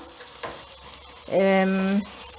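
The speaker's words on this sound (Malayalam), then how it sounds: "ഇതിട്ടിട്ട് നന്നായിട്ടൊന്ന് ഇളക്കി കൊടുക്കാം" Chicken in a pan stirred with turmeric and coriander powder for Kerala pepper chicken curry, a short sizzle with a few scraping strokes and a tonal hum in the second half.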